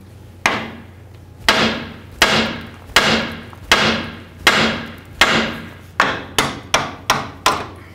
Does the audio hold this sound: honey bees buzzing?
no